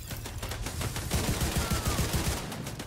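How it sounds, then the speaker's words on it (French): Rapid bursts of automatic gunfire in The Division 2, a run of sharp repeated shots at moderate distance under steady game ambience with no talk. "Ah merde, il a tiré avant moi"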